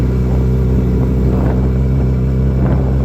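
A sport motorcycle ridden on snow gives a loud, steady engine rumble up close, holding an even drone for the whole few seconds with no talk.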